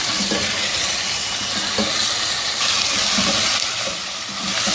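Chicken pieces with garlic-ginger paste cooking in a pot over medium heat for a desi-style chicken korma give a steady, close sizzle and hiss with faint stirring scrapes throughout.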